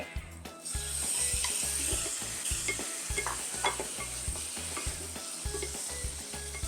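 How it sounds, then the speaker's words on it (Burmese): Pork frying in a pan with onion and garlic, a loud steady sizzle overlaid by a regular series of clanking stirs against the pan, close and continuous. "ကြက်သွန်အဖြူညီလေးကြက်လာပြီဆိုတော့ ဝတ်သားလေးထည့်လိုက်ပါမယ်ရှင်"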